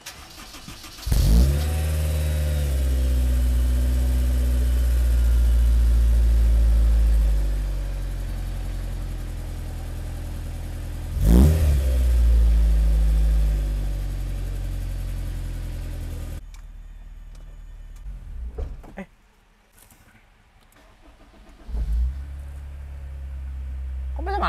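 A Honda S2000 fitted with J's Racing parts fires up loud and close, revs hard, settles to idle, and then gets a second sharp blip before cutting out; a short restart and revs follow near the end.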